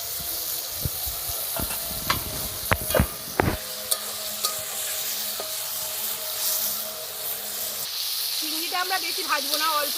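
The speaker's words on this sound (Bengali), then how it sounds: "চিংড়িটা আমরা বেশি ভাজবো না, অল্প ভাজবো, বেশি ভাজলে চিংড়িটা শক্ত হয়ে যাবে।" Prawns fry in hot oil at home for a prawn and jackfruit curry. A steady, close sizzle and hiss runs throughout, broken by sharp crackles and pops in the first few seconds; a brief tonal sound rises near the end.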